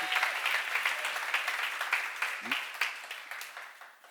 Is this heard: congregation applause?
yes